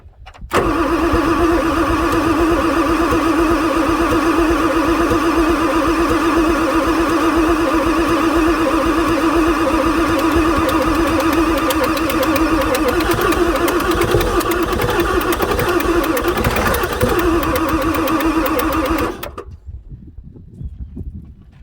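A 1994 Ford F450 with a 7.3 diesel engine starts and runs, a loud, steady clattering rumble that holds for about nineteen seconds before shutting off abruptly, close by and without talking.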